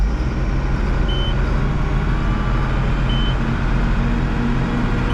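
A tractor engine revs steadily to drive a hay baler, a loud continuous low rumble with a constant drone held throughout, a couple of faint high beeps sounding briefly over it.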